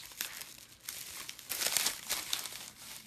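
Netting is handled and gathered for a bow in close, quiet bursts of crinkling and rustling, busiest in the middle, with no talking.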